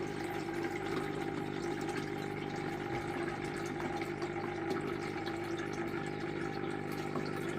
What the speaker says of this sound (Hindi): हमारा सबमर्सिबल स्टार्ट हो चुका है, पानी भर रहा है।